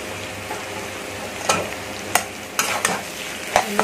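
Mustard masala being stirred for a prawn curry in a pan, with a steady hiss and a few sharp spoon scrapes and knocks against the pan, no talk.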